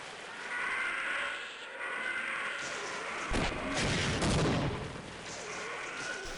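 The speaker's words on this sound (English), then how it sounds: "When I'm jumping and shooting with that weapon, it's like the rocket shoots out of my feet." A rocket weapon fired while jumping in Half-Life: a steady roar of blast noise with a sharp, louder burst near the middle, heavy and close, with no talk over it.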